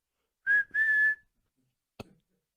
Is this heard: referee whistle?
yes